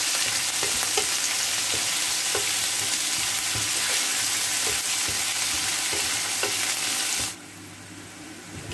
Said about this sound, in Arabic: كي نجيو نقليو الدجاج تاعنا نديرولو لو فو فور هاكا